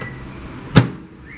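A microwave oven door is shut in a home kitchen, a single short, sharp click-thud over a steady background hum.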